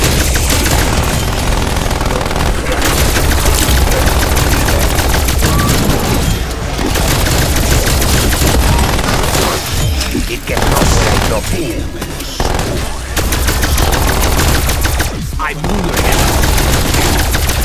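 A sentry turret blasting away in a zombies round of Call of Duty: Black Ops Cold War, loud dense bursts of gunfire with booms, nearly continuous and close, broken by a few short gaps.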